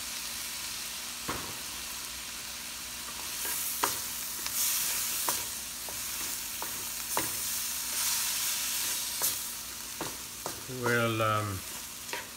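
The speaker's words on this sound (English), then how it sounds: "saute this for 2 minutes" Lechon sisig sautés with soy sauce in a hot pan, a steady sizzle punctuated by occasional spatula clicks and scrapes, and a voice speaks briefly near the end.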